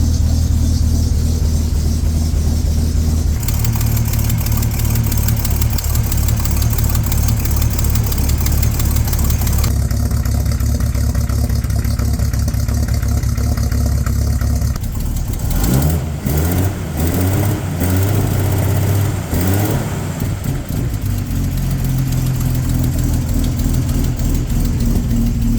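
A Bentley engine idles steadily after a cold start in 47-degree weather, a loud, close, continuous rumble with shifting tone and a few mechanical clatters partway through, no talk.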